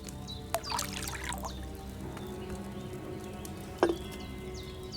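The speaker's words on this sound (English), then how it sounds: "First, you have to pour the right base into the cauldron." Wine poured from a pitcher into a cauldron in Kingdom Come: Deliverance 2, a faint soft trickle with a short splash near the start and a sharper drip-like clink toward the end, no talk.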